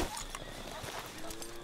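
Clip-clop of horse hooves trotting at a steady rhythm, moderately near, under ambient game sounds and a bit of background talk, in Red Dead Redemption 2.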